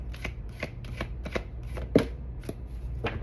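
A deck of angel oracle cards being shuffled by hand, with a steady series of soft riffling flicks about every half second and one sharper snap near the middle, close and fairly quiet with no talking.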